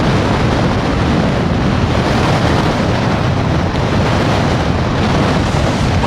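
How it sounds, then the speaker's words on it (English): Strong Arctic blizzard wind roars steadily and loudly against the microphone, a dense unbroken rush with buffeting throughout and no voices. "The wind and the cold together is not good."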